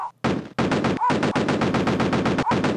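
Rapid machine-gun fire in the retro video game Cannon Fodder, long bursts of fast rhythmic shots, loud and nearly continuous, with brief pauses and faint electronic blips between bursts.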